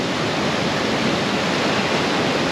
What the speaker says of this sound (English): the Thorough River is open